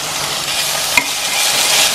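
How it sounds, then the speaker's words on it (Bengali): Spice paste of green chilli and cumin, with ginger-garlic paste, sizzles and fries steadily in a pan while being stirred, a continuous close hiss with a brief utensil scrape midway and no voices. "আবার একটু ভাজা ভাজা করে নিচ্ছি।"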